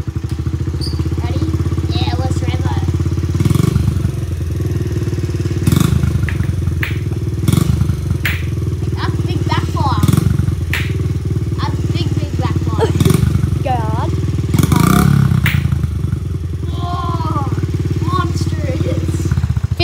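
A 50cc motorbike engine revs hard during burnouts, its buzzing drone continuous and loud throughout, with clattering and thuds and people talking over it.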